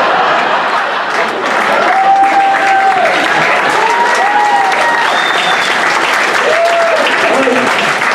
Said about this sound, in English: got a round of applause for punching some lady